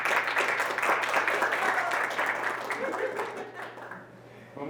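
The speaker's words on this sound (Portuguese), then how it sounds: "Palmas para o Gustavo." An audience at a panel on youth and environmental sustainability governance claps for a speaker, with dense applause that starts full and gradually thins out.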